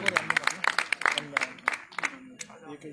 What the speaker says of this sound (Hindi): जोरदार तालियां सुशील भैया की कविताओं के लिए और सुशील भैया के लिए।